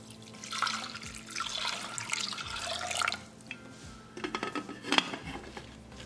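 Water splashes and pours into a metal pressure cooker at close range, with clinks of cookware. The pouring tapers into drips.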